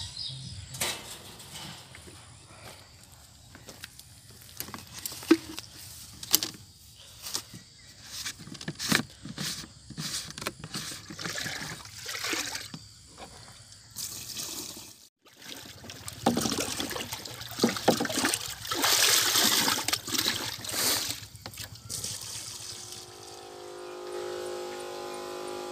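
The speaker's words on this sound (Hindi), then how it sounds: "X185 दवाई का हमने जो है पानी मिक्स कर लिया है और हम अपने पोल्ट्री फार्म में इसका स्प्रे करने की तैयारी कर रहे हैं" Spray of X185 medicine mixed with water across a poultry farm, a hissing, spattering liquid spray that starts and stops irregularly over a low steady hum, louder toward the middle.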